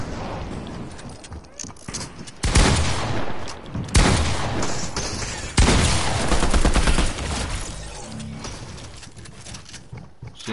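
Bursts of rifle fire crack out in a Fortnite match, several loud volleys separated by quieter stretches, with talk running beneath the shooting.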